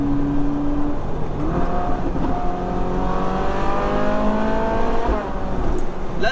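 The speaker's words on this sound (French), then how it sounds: "Et on a cet échappement, ce moteur" A Ferrari 458 Spider's engine and exhaust rev loudly and close, the tone climbing steadily in pitch through an acceleration, dipping near the end, then rising again.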